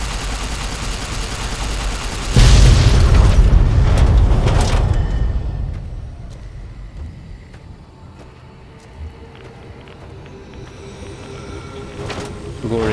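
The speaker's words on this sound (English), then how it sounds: "Big explosions." A big explosion in the game Fallout: New Vegas, a heavy low boom that bursts in suddenly and rumbles loudly for a couple of seconds, then fades into a quieter, rumbling background.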